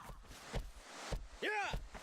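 A horse in the video game Shadow of the Colossus lets out a short, rising-and-falling whinny midway through, between dull hoof-like thuds and soft game ambience.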